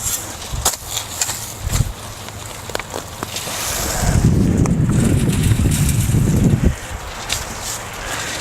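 A motorized soil sifter runs on its high speed setting, giving a steady low rumble with scraping and rattling that swells loudly midway for a few seconds, then drops back to a lighter churn, with no talk.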